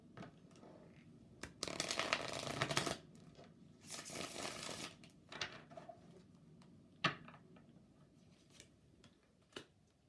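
Universal Celtic Tarot cards riffle in two bursts near the start and middle, with scattered taps and light shuffling handling between, close and fairly quiet with no talking.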